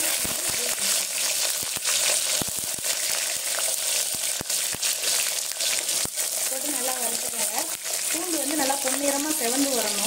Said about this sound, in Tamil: 1 டீஸ்பூன் சோம்பு, போட்டு நல்லா பொரிஞ்சு வந்த உடனே நம்ம உரிச்சு வச்சுக்கிற பூண்டு